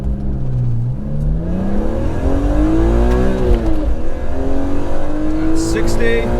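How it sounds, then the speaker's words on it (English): Rare BMW accelerating hard from a standstill through a 0 to 60 run, engine revving loudly and climbing in pitch through several gear changes, close and continuous for about six seconds. "let's see if we can do a little 0 to 60 test right here"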